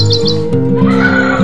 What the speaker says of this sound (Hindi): आवाज़ सुन सकते हो चिड़िया की कितना खूबसूरत आवाज़ आ रहा है